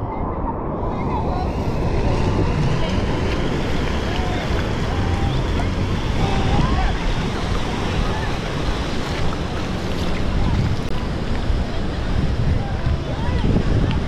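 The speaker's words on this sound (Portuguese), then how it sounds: "eu tô gravando as ondas do mar batendo na câmera" Ocean waves break on a beach in Praia Grande on the São Paulo coast, with a loud, continuous roar of surf and heavy wind buffeting close to the microphone.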